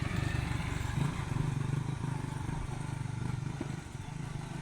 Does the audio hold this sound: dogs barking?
no